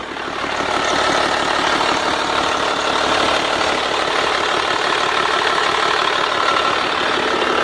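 Cummins diesel engine in a Ford F450 truck idling with a loud, steady knocking clatter and deep rumble, heard close up and continuous.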